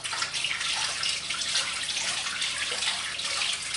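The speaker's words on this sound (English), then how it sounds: "let me wash my hands" Tap water runs steadily into a sink during handwashing in a home kitchen, a continuous close splashing hiss that holds even for the whole stretch.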